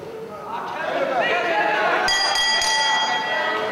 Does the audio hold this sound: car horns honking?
no